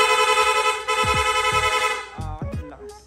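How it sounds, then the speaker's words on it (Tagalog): Rapid horn on a Honda Click v3 motorcycle, a loud, sustained blaring horn tone with quick repeated bursts near the end, heard close up. "yung busina natin, magsusunod-sunod na po yan."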